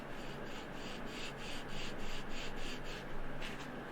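A part is rubbed back and forth on a sheet of sandpaper over cardboard. It gives a steady, close rasping with a regular rhythm of strokes and no talk.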